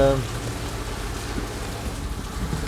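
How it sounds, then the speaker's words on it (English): Heavy rain drumming on a Citroen 2CV, a dense, even hiss and patter on the roof and body, loud and close inside the car, with steady low rumble beneath. "that's a pretty fair amount of rain"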